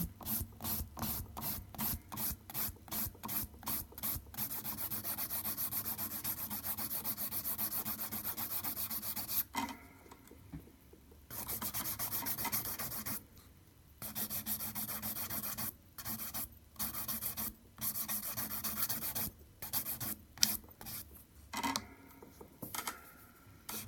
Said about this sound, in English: we can start beveling our file around and blending those corners in